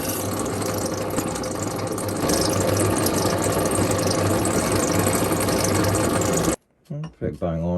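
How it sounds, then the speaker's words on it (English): A power drill bores holes in the steel blade of a vintage Tyzack dovetail saw, with a steady, loud motor whir for several seconds that stops abruptly, followed by a few short clicks and handling noises. "we'll drill these holes."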